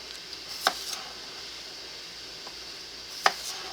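A knife trims the ends off washed potatoes, making two crisp, close chopping cuts against a board over a faint steady background hiss.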